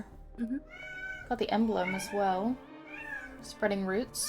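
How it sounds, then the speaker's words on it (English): A house cat meows in the background several times, its drawn-out cries rising and falling under nearly continuous close conversation. "I'm sorry for the cat meowing in the background at everybody."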